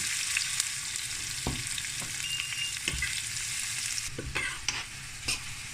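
Garlic and onion frying in a pan for sweet and sour fish, a steady close sizzle punctuated by sharp scraping stirs and clinks of a utensil, with no speech.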